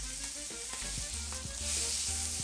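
Rack of lamb searing in a hot pan, a close, steady frying sizzle with a few light knocks and shifts of the meat, and no voices.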